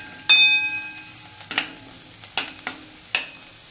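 Coconut, garlic and onion stirred in a hot pan, a spoon scraping in four or five distinct sweeps over a soft steady sizzle, close and clear with no talking.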